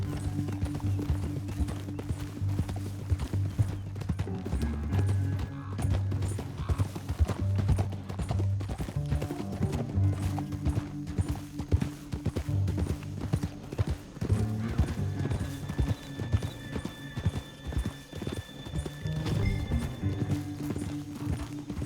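Horse hooves clip-clop steadily in the Western open-world game Red Dead Redemption 2, several horses moving at an even gait over a low rumbling bed of ambient game sound, with occasional tonal music fragments.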